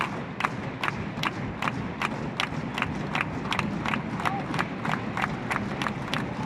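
Spectators stomp in a steady, rapid rhythm of sharp thuds at a college baseball game, Florida Atlantic versus Southern Mississippi, a continuous crowd beat heard from a distance over ambient stadium noise.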